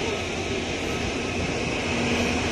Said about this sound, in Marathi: ये आने वाली बहुत आवाज़ करेगी ना ये